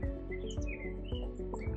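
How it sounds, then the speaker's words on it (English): Small birds chirp and tweet repeatedly beside a lock on the Trent-Severn Waterway. The calls are fairly close over a steady low rumble from an engine or running water. "You hear the birds chirping?"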